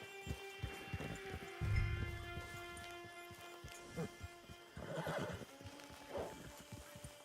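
A horse whinnies and its hooves clip-clop in the Red Dead Online video game, with in-game music tones underneath and a few sharper neighs and hoof thumps spread across the stretch.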